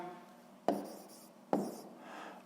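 A pen writes a math solution by hand on paper, giving two sharp scratchy strokes about a second apart over a soft, continuous scraping.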